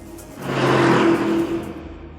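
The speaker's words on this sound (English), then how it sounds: "For lap after lap, the big, heavy Urus clawed at the rear end of the 911 Turbo" In a video game race between a Lamborghini Urus and a Porsche 911 Turbo, an engine roar swells up, holds briefly and fades, like a single quick pass.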